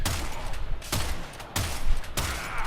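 Gunfire in a video game: three or four loud, sharp shots spaced roughly half a second apart, each ringing out over a steady background of game noise.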